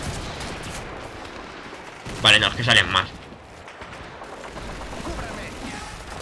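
Gunfire from a World War II shooter game, Call of Duty 2: a short burst of several loud cracking shots rattling over about a second, set against a low battlefield rumble, with someone talking briefly before it.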